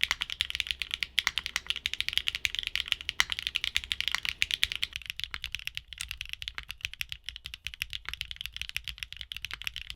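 A mechanical keyboard fitted with HMX Lotus and Sunset Gleam switches is typed on steadily at close range. It gives a dense, crisp run of quick clacky keystrokes, and a faint background hum drops away midway.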